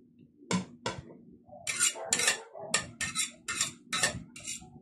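Utensil scraping and clinking in a pan while onions are stirred for tortang talong, a series of sharp metallic scrapes and taps in irregular rhythm over a low sizzle, close and fairly loud.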